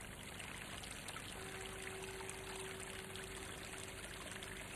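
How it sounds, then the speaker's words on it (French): The small Fosseroule brook flowing toward the Mehaigne, a continuous even water rush and trickle with a faint steady tone running underneath. "Écoutez le roucoulement de l'eau qui s'écoule. C'est le petit ruisseau de Fosseroule qui roule vers la Mehaigne"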